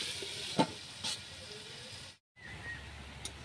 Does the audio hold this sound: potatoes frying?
yes